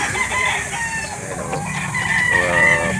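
Roosters crow repeatedly at a chicken market in Calauan, Laguna, several calls overlapping near and loud above a constant background hum, with no talk.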